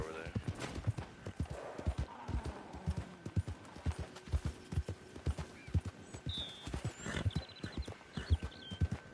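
Steady clip-clop of a horse's hooves walking at an even rhythm, with a brief neigh and faint ambient tones behind, from the video game Red Dead Online.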